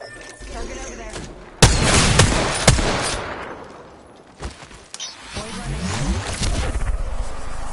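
Video game gunfire erupts in a loud, dense burst of shots with a few sharp cracks, then fades to scattered impacts and rumbling, while a voice talks over it.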